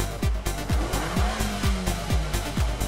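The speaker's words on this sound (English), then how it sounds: "Rev the engine several times to blow out the water and loose carbon." A car engine revs repeatedly in quick bursts, each blip rising and falling roughly every half second, loud and close with no talk.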